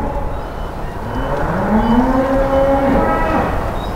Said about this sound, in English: You can hear the cows distressed.